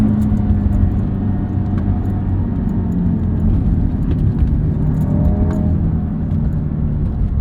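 A 2013 Audi TT RS with its turbocharged five-cylinder engine pulls under acceleration, a steady, even mid-range drone heard from inside the cabin, continuous and loud, with no talk over it.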